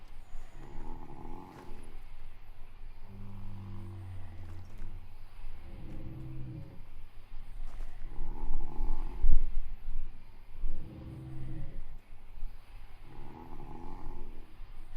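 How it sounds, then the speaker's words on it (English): A person snores nearby in slow, regular cycles of rough, rumbling breaths, each lasting a second or two, rising and falling in loudness. "Oh, listen to him snoring."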